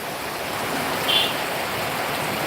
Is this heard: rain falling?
yes